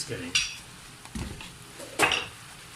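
A spoon scrapes and clinks against a pan while minced meat keema is mixed with a little oil, three distinct metallic knocks over a soft background, with no voice present.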